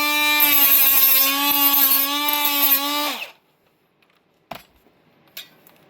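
A power tool whines at a steady high pitch while flattening the edges of an RC model bulkhead, running for about three seconds before cutting off, followed by a couple of short sharp knocks.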